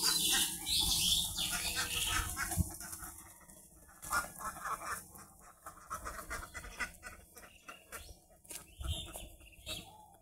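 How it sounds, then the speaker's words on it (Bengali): A flock of ducks released in the morning: scattered quacks and bird calls come in bursts, close and fairly loud, with farmyard noise and pauses between. "আমি প্রতিদিন সকাল 7:30টার দিকে এই হাঁসগুলো ছাড়িয়ে দিই আর কি।"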